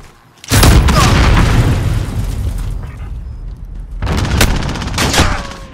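An explosive charge detonates in Call of Duty: Modern Warfare, a loud close blast that rumbles and decays over several seconds before a second burst of explosive noise, with no voices.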